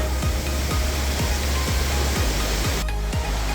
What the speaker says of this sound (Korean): 계곡으로 들어니까 물소리도 시원하고 시원하네